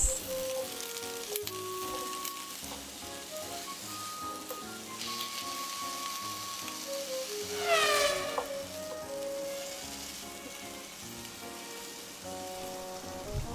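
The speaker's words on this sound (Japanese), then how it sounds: "玉ねぎ、人参、じゃがいもを加え 2分程度炒めます。" Onions, carrots and potatoes stir-fry in oil in a pan, sizzling steadily with crackling spatter and faint clinks of utensils throughout, close and moderately loud with no talk.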